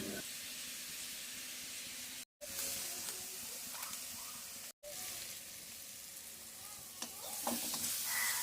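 Chopped vegetables sizzling and frying in a pan while being stirred, for noodles; a steady close crackle and hiss runs throughout with scraping stirs, broken by two very short cuts of silence.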